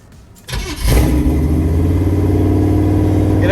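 1978 Chevy C10 with a 350 small block and a new Edelbrock carburetor cranks briefly, then fires and settles into a loud, steady, rumbling idle close by.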